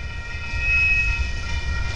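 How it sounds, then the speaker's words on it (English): A Union Pacific freight train rolls by close at hand, a steady heavy low rumble with a faint metallic whine riding above it, heard alone without talk. "Here goes the train."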